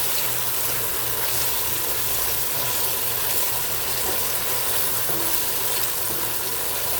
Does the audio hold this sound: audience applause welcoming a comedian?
no